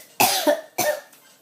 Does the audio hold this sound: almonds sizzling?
no